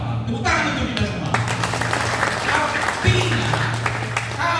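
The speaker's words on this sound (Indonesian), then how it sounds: "Tepuk tangan untuk kita semua." Audience applause at an induction ceremony for the Horas Bangso Batak board, dense clapping over a steady low hum, with a voice and background chatter mixed in.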